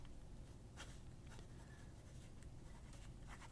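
A fountain pen nib scratches softly across paper in short faint strokes against a quiet room background.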